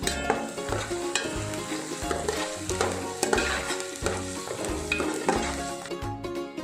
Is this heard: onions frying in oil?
yes